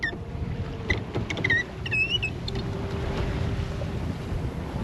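Headsail luffing on a 1969 Alden 32 sailboat in light wind, a soft steady flutter and rush of wind over water with a few faint creaks, no voices.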